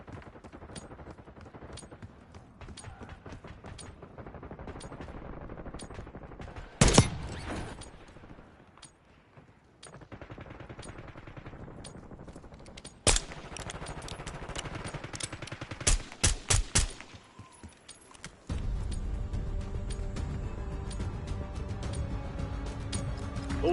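Video game gunfire in a military combat setting: bursts of automatic fire and single shots crackle over a constant rumbling battle din, with sharp loud volleys standing out and a denser, louder barrage near the end.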